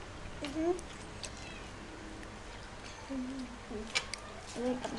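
A cat meows several times, short rising calls scattered across a few seconds, fairly near but soft, over a faint background.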